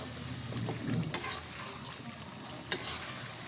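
Garlic and chicken sizzling and being stirred in a karahi, a soft steady fry with a couple of sharp utensil clinks against the pan.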